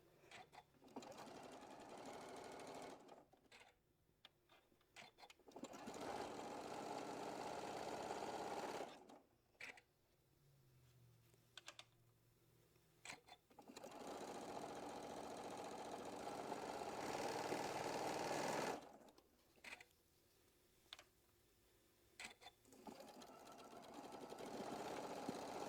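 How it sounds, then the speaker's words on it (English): Sewing machine chain piecing quilt blocks with a scant quarter-inch seam, running in several sustained bursts of steady stitching separated by short pauses as the fabric is fed through. "So I'm just stitching down 1/4 inch or just a scant quarter away from the line."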